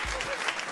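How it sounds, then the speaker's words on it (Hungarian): Brief burst of studio audience applause on a quiz game show, fairly soft dense clapping lasting under a second. "egy nagy tapsot szeretnék kérni"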